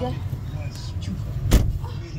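Steady low rumble fills the cabin of a moving car, with a brief thump or click partway through and faint voices in the background.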